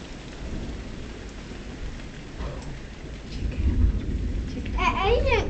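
Thunderstorm with steady rain and rumbling thunder, a low roll swelling midway and again toward the end over constant rainfall.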